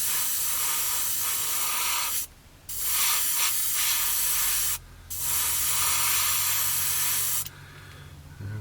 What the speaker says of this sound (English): as long as we spray away from the open edge of the cockpit, we'll be fine